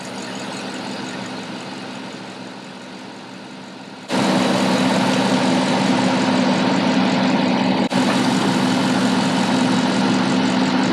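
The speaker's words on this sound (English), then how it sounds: "We can hear the compressor kicking in, but it's turning off because there's not enough refrigerant" An old Cadillac idles with a steady low engine hum until its A/C compressor kicks in with a louder, fuller drone, briefly drops out for a moment, then comes back on.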